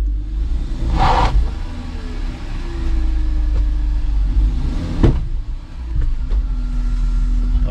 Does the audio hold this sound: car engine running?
yes